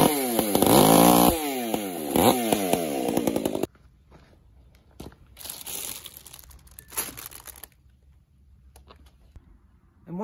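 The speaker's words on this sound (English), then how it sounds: "nothing says I love you more to that significant other than a brand new chainsaw" A chainsaw runs loud and close for about three and a half seconds with a rising and falling buzzing whine, then cuts off abruptly, leaving quieter rustling and crinkling.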